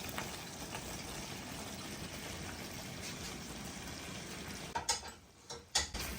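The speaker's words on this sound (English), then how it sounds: "Give it a good stir." Pasta being stirred into a simmering creamy shrimp sauce in a pan, a steady bubbling sizzle with soft scraping and stirring, and a few louder clinks of the utensil near the end.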